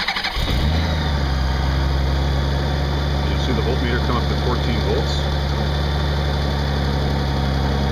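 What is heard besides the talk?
motorcycle engine starting and idling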